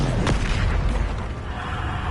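A Bombarda spell explosion from the Hogwarts Legacy video game lands as a deep booming blast with a sharp burst near the start. A dense low rumble follows and carries on steadily to the end.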